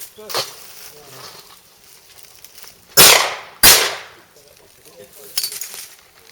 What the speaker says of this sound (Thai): เข้าไปในป่าเพื่อยิงเป้าบินนะคะ